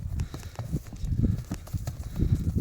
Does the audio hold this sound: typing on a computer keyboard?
no